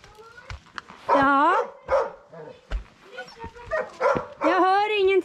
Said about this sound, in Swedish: Jag hör ingenting för Lisa skäller så mycket